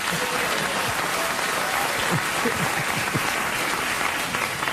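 A television studio audience applauds in a full, steady roar of clapping at a late-night talk show, with faint voices and cheers under it.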